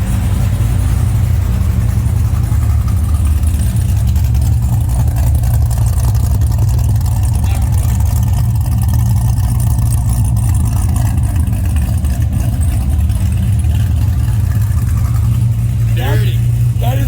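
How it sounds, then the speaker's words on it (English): A Chevrolet Corvette C6 ZR1 with roughly 1009 rear-wheel horsepower idles on a dyno at about 850 rpm, its loud, steady, deep bass exhaust rumble continuous and close throughout, with people talking faintly over it. "it's idle down now, it's at 850 if you want to get another exhaust note."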